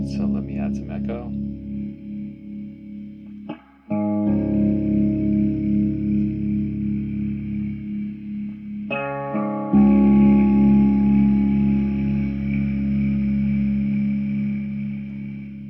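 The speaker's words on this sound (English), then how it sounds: "So let me add some echo." A 1960s Victor MA-40 Japanese combo amp plays sustained electric guitar chords with echo added, the tones swelling and repeating with a trailing, reverberant tail, loud and steady across several strummed passages.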